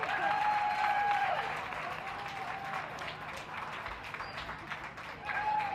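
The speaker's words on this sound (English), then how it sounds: "one final round of applause for our winning veterans" A crowd at the Darlington Championship Dog Show, during the gundog and toy group judging, breaks into sustained applause, a dense patter of clapping that rises, dips, and swells again as a voice speaks over it.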